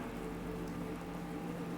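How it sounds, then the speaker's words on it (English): Steady rain falls in a video game set in a wasteland, a dense, even hiss of drops spattering on surfaces that holds at the same loudness throughout, with no voices. "this rain could ruin my notes."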